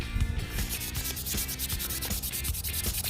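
Steady rhythmic scraping of hand sanding a Petoskey stone to a fine smooth finish, repeated strokes rubbing back and forth at close range, with no voices.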